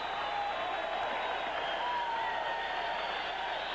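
Boxing arena crowd reacting after a junior featherweight bout, a continuous far-off roar of applause and cheering with murmured voices, steady and undiminished throughout.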